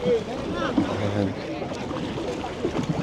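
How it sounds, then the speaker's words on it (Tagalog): Strong sea waves rock a small outrigger boat off Oslob, Cebu, with wind buffeting the microphone and water sloshing against the hull, while voices talk underneath. "Grabe yung alon."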